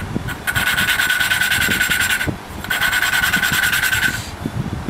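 Valve lapping on an engine, a lapping tool spun back and forth against the valve seat with light pressure, giving two sustained rasping, grinding bursts of about two seconds each with a short pause between, close and steady.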